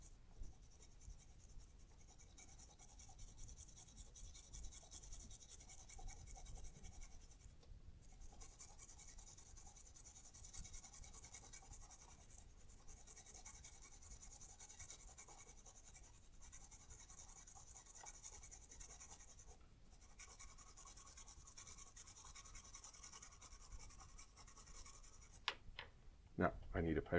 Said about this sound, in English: Put a little bit on a toothbrush, and especially the rim. We're going to start brushing it with this.